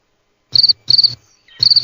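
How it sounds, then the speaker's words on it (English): Crickets or peeper frogs chirp in loud, bright trills, three short bursts repeating in a steady rhythm, close by and with no other sound between them. "You hear the crickets or the peeper frogs."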